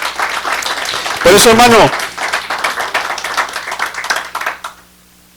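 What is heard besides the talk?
congregation applauding in church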